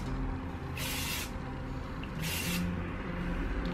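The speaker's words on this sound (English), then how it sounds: "I'm now gonna add a load more hairspray." Hairspray misted onto freshly curled, brushed-out hair in two short hissing bursts, the first near the one-second mark and the second just after two seconds, each close and fairly loud over a low steady background hum.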